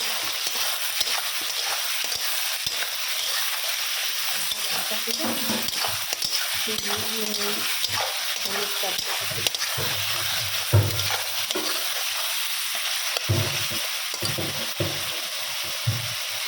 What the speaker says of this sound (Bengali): একটুখানি হালকা ভাজা হয়ে যাক